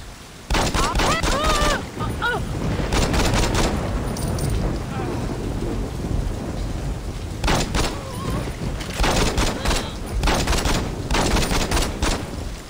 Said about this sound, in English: I'll shoot you motherfuckers too, Sanks.